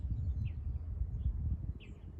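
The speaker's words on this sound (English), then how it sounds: "Just a little pause so you can hear the birds chirping." Outdoors at a campsite kitchen, a few faint, short bird chirps ring out at spaced intervals over a low, steady outdoor rumble.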